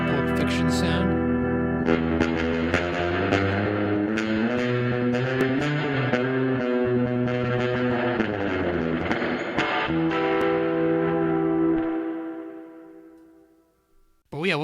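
Electric guitar through a surf-style effect preset, twangy picked notes with heavy reverb and slight distortion playing a busy melodic line, sustaining near and loud before decaying into a long ringing tail.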